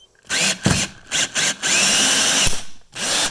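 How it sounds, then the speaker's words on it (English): A cordless power drill whirs in several short bursts, then runs steadily, driving a screw into a floor; close and loud, with brief pauses between pulls of the trigger. "make sure your battery has enough juice in the drill"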